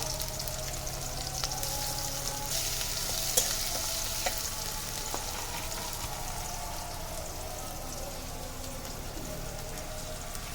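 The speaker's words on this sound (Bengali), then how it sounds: "এবার চুলায় তেল দিয়ে দিল, এখন পেঁয়াজ আর মরিচ দিয়ে দিল, এবার একটু রসুন বাটা দিয়ে দিল" Onions, green chillies and garlic paste frying in oil on a stove, a steady close sizzle and crackle that runs throughout with occasional stirring clicks.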